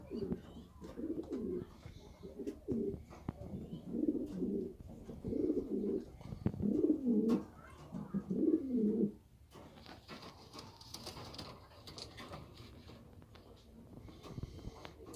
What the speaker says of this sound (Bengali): বাগদাদ সৌদি আরবের কবুতর।